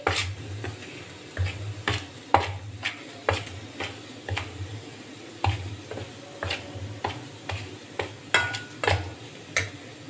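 Semolina and gram flour being mixed in a big bowl, a spoon clinking and scraping against the bowl in repeated sharp taps at an uneven, steady pace, close and clear with no talking.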